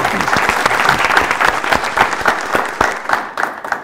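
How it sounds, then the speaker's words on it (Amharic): An audience at a Saturday afternoon game show claps for two contestants, producing dense, sustained applause with many overlapping hand claps, loud and close throughout. "አጨብጭቡላችሁ ሁለቱ"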